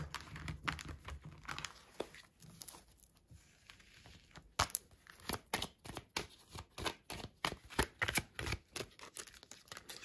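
Tarot cards shuffled for a reading, a long series of soft papery riffles and sharp flicking snaps at an uneven pace, quiet and close, with no voice.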